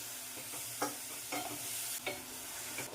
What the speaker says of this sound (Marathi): ही काकडी आता या फोडणीमध्ये आपल्याला वाकून घ्यायची आहे